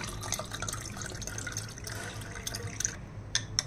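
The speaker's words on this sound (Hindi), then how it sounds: "अब हम डालेंगे दोनों में चिड़ पानी" Water poured from a tap or jug into two glasses holding raw mango paste for aam panna, a steady close splashing trickle with a few sharper drips toward the end, no talking.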